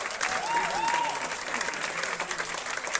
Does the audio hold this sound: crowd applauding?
yes